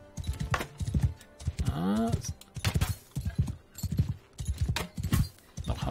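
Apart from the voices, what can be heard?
horse galloping while riding, video game Mount & Blade 2 Bannerlord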